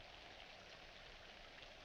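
Steady rain falls outside, a soft continuous hiss of drops at moderate distance with no other sounds, even and unbroken throughout.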